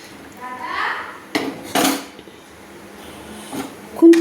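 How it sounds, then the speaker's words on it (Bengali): A metal spatula scrapes and clanks against a pan while stirring chickpea masala with added water, cooked over a medium flame: a few sharp knocks and scrapes, close by, separated by quiet stretches. "জলটা অ্যাড করে আমি একটু খুন্তি দিয়ে নেড়ে নিচ্ছি"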